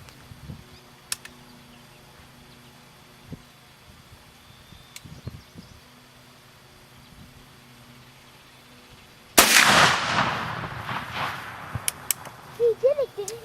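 A muzzle-loading gun fires a single loud, sharp report at a shooting contest, its boom trailing off into lingering rumble, after a long quiet stretch of faint shuffling and small knocks.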